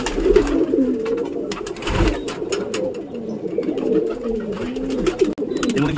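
Pet pigeons gathered at a water dish near the loft in the morning, cooing in close, continuous overlapping calls with some soft fluttering and scuffling.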